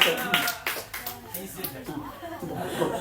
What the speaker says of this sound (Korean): 그래 박수 한번